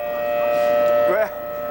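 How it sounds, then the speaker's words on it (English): A steady, sustained all-clear air raid siren tone during the Iraq War holds level throughout, with a brief speech-like sound near the end. "What you're hearing there is the all clear siren."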